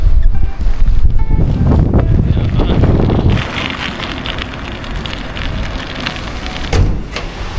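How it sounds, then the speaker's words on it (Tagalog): Cold morning wind at about 15 degrees gusts steadily across the microphone outdoors at a house under construction, a rough continuous rush with louder buffets in the first few seconds, then a steadier, thinner roar. "Tapos sinabayan pa ng hangin."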